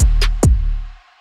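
An 808 bass with heavy pitch bending: a deep, booming sub note that swoops downward in pitch after a couple of sharp percussive ticks, then fades out within about a second, loud and isolated.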